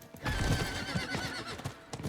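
A horse in the video game Diablo IV whinnies loudly up close over the clatter of hooves, a short burst of galloping and neighing.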